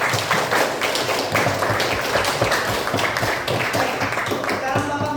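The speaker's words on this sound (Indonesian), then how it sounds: "Sebelumnya tepuk tangan dulu untuk kita semua nih." Students in a classroom clap together for one another, a dense, busy patter of hands continuing throughout, with voices mixed in.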